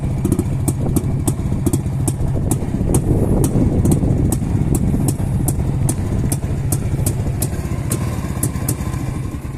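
A warmed-up Jawa 250 two-stroke motorcycle engine runs steadily at idle, a loud, close, continuous burbling drone with a fast regular clatter and faint sharp ticks, with no talking.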